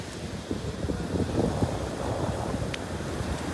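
Surf washes onto Palolem Beach in Goa with steady wind buffeting the microphone, a continuous loud roar of breaking waves and gusts and no talking.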